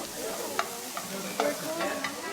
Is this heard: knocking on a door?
no